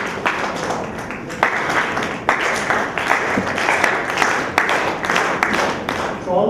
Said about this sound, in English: I'm going to raise my hand and you have to clap with my hand going up